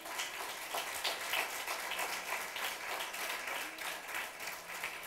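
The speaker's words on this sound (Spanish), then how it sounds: "denle un aplauso al Señor" Applause from a church congregation, a steady dense wash of many hands clapping together, sustained and fairly even throughout with no talk over it.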